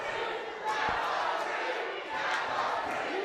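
Wrestling arena crowd roaring and jeering at the referee after a near-fall, a dense, sustained wall of shouting voices with swells of louder yelling, close and continuous throughout.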